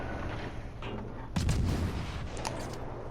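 A warship's gun fires in World of Warships Legends, a single heavy boom at the midpoint against a steady background of game ambience.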